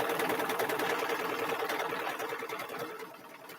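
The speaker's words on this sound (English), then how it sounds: "right now it's going to run that quilting stitch on the inside" A sewing machine runs a quilting stitch on the inside of a satin-stitched edge, a steady, fast, evenly pulsing mechanical whir, close and continuous throughout without talk.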